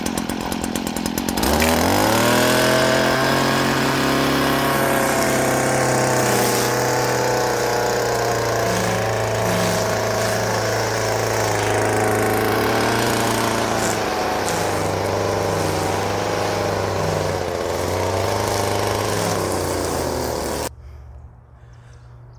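A STIHL FS 56 RC gas weed trimmer starts up and runs at a steady, loud high-pitched drone for about twenty seconds, then cuts off abruptly near the end.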